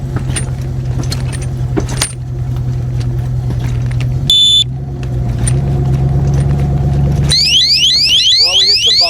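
A Trimax Thex chain lock alarm in a moving vehicle beeps steadily, then shifts into a loud warbling, sweeping siren over the rumble of driving and rattling chain.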